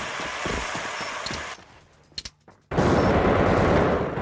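A multiplayer shooter match produces dense, loud gunfire in two rapid bursts separated by a brief quieter pause with a few isolated shots.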